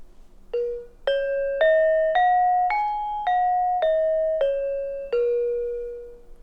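Nine gamelan metallophone notes in the slendro scale struck one after another, rising then falling, each bright tone ringing briefly before the next, clear and close.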